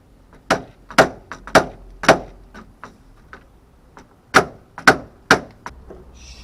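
Sharp hammer blows strike in irregular bursts, several quick hits, a pause, then three more loud knocks, close by with no talking.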